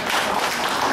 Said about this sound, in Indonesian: Nah, ini baru enak tepuk tangan dulu.